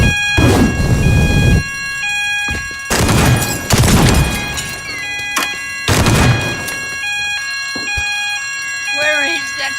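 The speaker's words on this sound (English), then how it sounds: "This is the fire alarm. A fire has been detected in the building." A shopping-center fire alarm siren in the video game Teardown repeats as steady electronic tones, with a recorded voice announcement coming through in loud bursts over the top.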